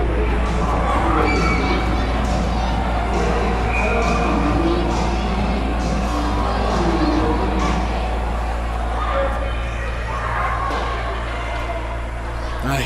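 Home crowd at a Cambridge Rivulettes women's hockey game roars after a goal in an arena, a dense, sustained wall of cheering and shouting that holds steady throughout.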